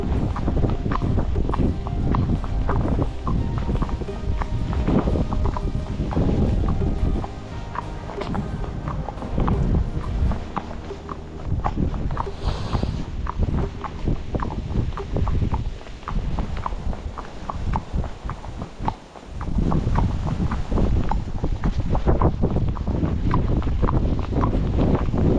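Horse hooves on a country lane, walking and trotting with a steady clip-clop rhythm, close and continuous throughout, with wind buffeting the microphone.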